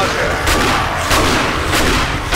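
Video game gunfire during a horde night, a dense, loud, continuous barrage of overlapping shots with a few heavier bursts standing out, close and saturated, with players talking over it.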